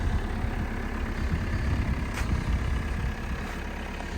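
A car engine idles in the cold at minus 7 degrees, a steady low rumble running continuously, constant and fairly close, with no voices.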